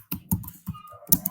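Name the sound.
typing on a computer keyboard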